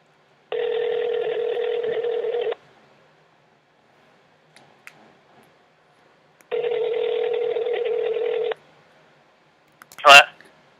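A FaceTime call ringing on an iPhone running iOS 10, two long electronic ring bursts separated by a silent gap, clear and close, followed by a brief sharp click.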